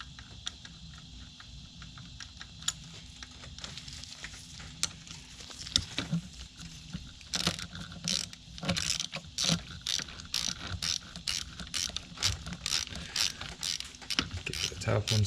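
New bolts are threaded into the fuel pump mounting on a 2014 Audi Q5 2.0T with a ratchet, starting sparse, then a steady run of close, rapid mechanical clicks.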